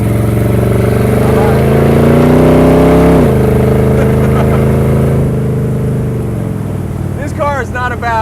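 A pre-1930 woody surf wagon with a 350 small block V8 idles with a steady low rumble, then revs up and settles back down, close and loud, with a voice talking over it and brief chirps near the end.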